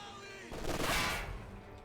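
MG42 machine gun fire in Company of Heroes 2, a faint rattling burst of rapid shots rising mid-clip over quiet battle ambience.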